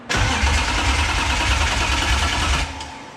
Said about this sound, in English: We're gonna crank it. No fuel pump right now.